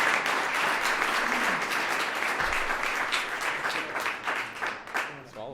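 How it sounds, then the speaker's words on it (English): A live lounge audience applauds a guest as he comes up, dense steady clapping that stays loud and fades slightly toward the end, with a host's voice heard briefly over it. "Give him a big round of applause."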